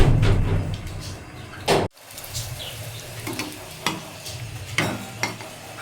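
Dough pieces dropped one at a time into hot oil fry with a close, crackling sizzle, broken by a brief loud clatter and a short silence, then bubbling on with scattered pops.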